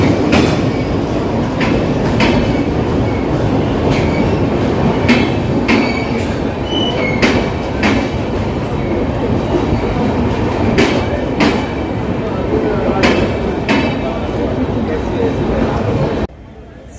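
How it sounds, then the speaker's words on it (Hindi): The Jan Shatabdi Express rolling into a station on the Guwahati–Jorhat Town line, with steady loud rumble, repeated wheel clicks and squeals over continuous track noise, voices faintly mixed in. "फाइनली अपनी जन शताब्दी यहाँ पे आ चुके हैं, मतलब डिपार्चर के टाइम पे अब फाइनली यहाँ पे स्टेशन पे आई है"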